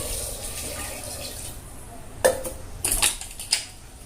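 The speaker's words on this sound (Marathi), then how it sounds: "एक तांब्या पाणी टाकू पडण्यासाठी" Water goes into a pressure cooker holding potatoes. It is faint and splashy, with a few sharp metallic knocks and clinks of the vessel partway through.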